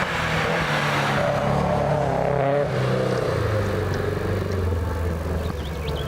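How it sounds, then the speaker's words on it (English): Datsun 1600 race car climbing a hillclimb course toward tight turns, engine note steady and fairly loud with harmonic revving that rises and eases, heard from the roadside with no voices. "Peter Rogers, Datsun 1600. He's approaching the tight turns."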